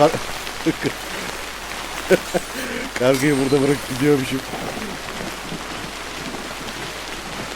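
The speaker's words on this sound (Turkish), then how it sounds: "Da niye böyle yağmur yağıyor usta?" Steady rain and rumbling thunder from the video game Death Stranding, a constant wash of downpour under a man chatting over it.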